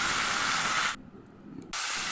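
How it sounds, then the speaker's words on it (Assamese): Chicken pieces fry in hot mustard oil with onions and cumin on high flame, giving a loud, bright sizzle that drops away abruptly for a moment before returning just as strong. "এইখিনি 5 মিনিটৰ বাবে মই হাই ফ্লেমত ভাজি ল'ম"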